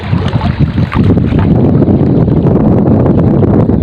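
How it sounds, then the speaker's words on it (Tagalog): Strong wind blows across an open fishing spot, a steady, loud roar of buffeting gusts that fills the whole stretch without a break. "Ayun mahangin na. Medyo lumalakas na yun."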